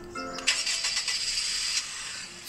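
A Rolls-Royce Dawn Golden Edition in Roblox Greenville starts up with a soft click, then a brief, quiet, hissing crank that settles after about a second, fairly faint overall.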